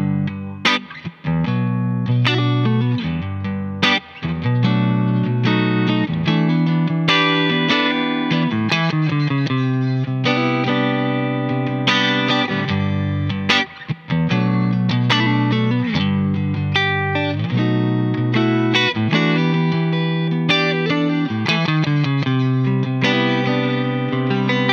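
Distorted electric guitar run through a Suhr Reactive Load with a Suhr Badger 1x12 cabinet impulse, V30 speaker, SM57 mic in a balanced neutral position; loud, continuous riffing with chords and palm-muted passages, no talking.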